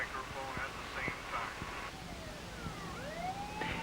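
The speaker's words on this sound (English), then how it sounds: "electronic twin-sonic siren" An electronic twin-sonic police siren sweeps up and down in alternating tones, moderately distant, with some voices talking underneath.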